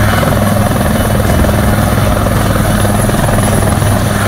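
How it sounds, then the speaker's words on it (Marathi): A helicopter flies over flooded villages in Dharashiv, Maharashtra, during a rescue operation after record heavy rain, its loud rotor throb and engine drone steady and unbroken throughout with no voices. "हेलिकॉप्टरनं गावकऱ्यांचं रेस्क्यू ऑपरेशन."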